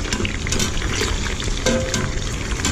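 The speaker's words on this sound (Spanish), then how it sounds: "vamos a comenzar a sofreír los chiles jalapeños" Jalapeño chiles sauté in a hot pan for escabeche, giving a continuous loud sizzling and crackling hiss that runs steady throughout, close by.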